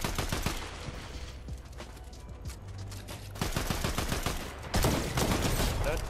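Dense gunfire from Unreal Tournament ranked play crackles throughout, with bursts of rapid shots and a few heavier blasts, loud and close, partly over background game noise with no talk.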